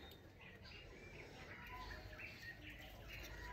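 Small birds chirp among trees in the countryside, with faint, scattered high tweets over a quiet outdoor background and a hint of soft voices.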